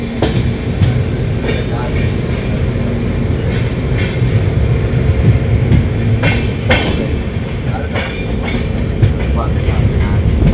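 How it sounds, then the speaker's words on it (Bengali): The Patna Garib Rath Express at Asansol Junction gives a loud, continuous rumble with rhythmic wheel clatter and a few sharp metallic clicks, with faint voices in the background throughout. "আমাদের ট্রেনের 2 নম্বর হল্ট এলো আসানসোল জাংশন।"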